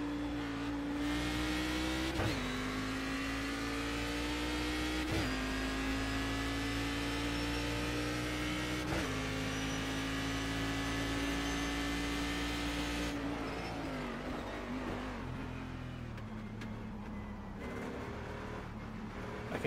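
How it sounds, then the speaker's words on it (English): A Cadillac CTS-VR race car in iRacing at Okayama drones loudly and continuously, its engine note holding steady with brief dips at each gear change or lift, then dropping lower as it slows near the end. "I can't get over how good this car sounds."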